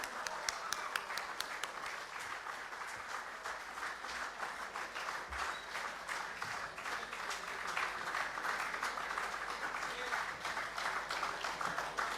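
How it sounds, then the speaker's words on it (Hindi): An audience at a cricket trophy and team logo unveiling for the CM Punjab Champions League claps in steady, dense applause that carries on for several seconds and builds slightly toward the end. "सो आप सबकी तालियों में इतना जोर, इतना शोर होना चाहिए कि बॉर्डर पार आवाज़ जानी चाहिए."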